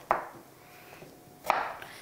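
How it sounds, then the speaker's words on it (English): Two sharp knife chops cutting a potato into cubes land on a cutting board about a second and a half apart, close and clear in a quiet room. "I'm going to chop him into cubes."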